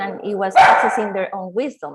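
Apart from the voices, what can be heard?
dog barking at a neighbour's dog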